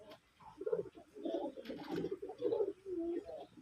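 Red desi 'raj golla' pigeons for sale coo in soft, repeated low throaty phrases, several overlapping birds close by with a few faint chirps and no talking.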